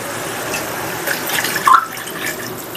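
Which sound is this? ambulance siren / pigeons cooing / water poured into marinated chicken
water poured into marinated chicken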